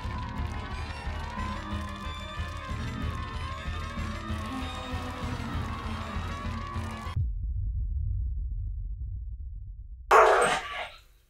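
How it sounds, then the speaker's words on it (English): Dogs bark and yelp at one another in a short loud burst near the end of a scene in the Distraint video game, after a long stretch of dark, droning ambient music cuts off. "And those are the dogs in the back yelling at each other."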